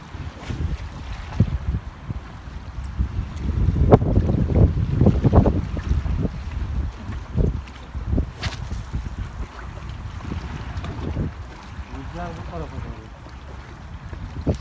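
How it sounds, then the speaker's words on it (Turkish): Steady wind noise buffets the microphone on open water while fishing for bluefish, with rumbling gusts and faint voices underneath. "rüzgar şu an arkadan geliyor"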